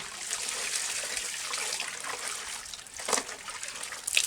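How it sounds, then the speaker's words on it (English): Wet furs being wrung out after a relaxing bath during tanning, giving a steady, close trickle and patter of water with a louder splashy spurt near the end and no talk. "Now I'm going to wring these out"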